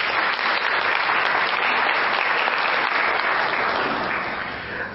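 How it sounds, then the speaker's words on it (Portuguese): A church congregation applauds during a Catholic sermon on Padre Pio, a dense, loud wash of clapping that holds steady for several seconds before easing slightly at the end. "dá uma salva de palmas para a palavra do Senhor"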